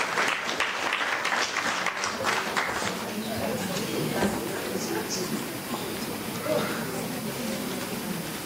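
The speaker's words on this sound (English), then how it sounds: "A round of applause for her," Conference audience clapping for a presenter at a library-sector event, a broad patter of hands that swells early then thins, while voices talk over it throughout.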